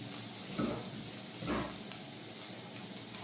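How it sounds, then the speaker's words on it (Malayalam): Onions sautéing with salt in a hot pan for a Kerala clam thoran: a steady, close sizzle with soft stirring scrapes rising a few times. "കുറച്ച് ഉപ്പിട്ട് ചൂടിനൊന്ന് വഴന്ന് തരട്ടെ."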